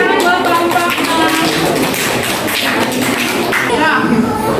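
Classroom applause for a student group after a presentation, a dense continuous patter of hands with voices mixed in underneath throughout.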